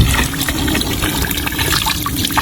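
Cold Himalayan spring water trickles and splashes in a loud, continuous close-up flow with bubbling, uneven gurgles throughout the short stretch.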